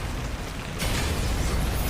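An explosion in the God of War: Ascension multiplayer game: a sudden, loud burst of broadband noise that stays rough and rumbling to the end.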